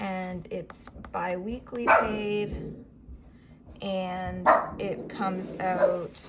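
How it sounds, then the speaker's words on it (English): A pet dog barks in the background of a home, a few short, fairly distant barks scattered beneath a person talking steadily. "That's my dog barking in the background."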